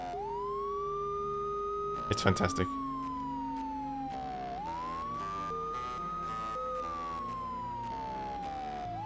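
In the PlayStation game Mizzurna Falls, a resampled police siren effect wails through the soundtrack in long, smooth rising and falling sweeps over layered music, with a short spoken remark near the start.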